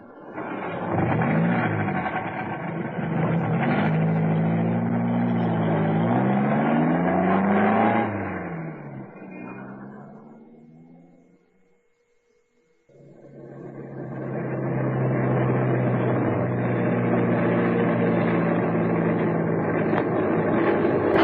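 A saloon car engine revs and accelerates with a rising, wavering pitch, then fades almost to silence before returning as a loud, steady drone. No one speaks over it.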